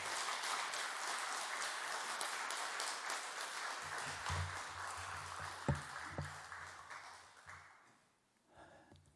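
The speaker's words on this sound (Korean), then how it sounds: "우리 박수로 맞이해 주시기 바랍니다." A church congregation at a Sunday Baptist worship service applauds to welcome a pastor, a dense, steady roar of clapping that fades out near the end.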